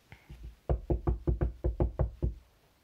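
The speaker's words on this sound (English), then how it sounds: "Lisa, Mandy can't hear you if you knock on the wall." Knocking on an indoor wall, a couple of faint taps and then a steady run of about eight firm, evenly spaced knocks, close and dull, with no talking.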